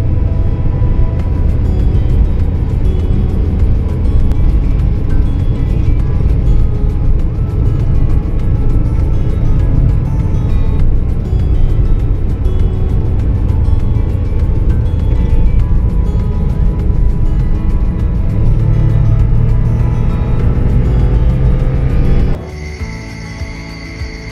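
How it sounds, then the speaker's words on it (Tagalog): A DE64W mini van climbs a steep uphill road, its engine droning loud and steady from inside the cabin with road rumble for a long stretch, then easing and dropping off near the end. "Ito yung gamit namin sa test drive, yung DE64W."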